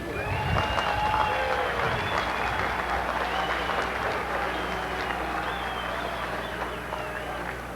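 Pittsburgh fans at the 1988 Pro Football Hall of Fame induction ceremony roar and applaud, a loud, dense wall of cheering and clapping that carries steadily from start to finish and eases only slightly toward the end.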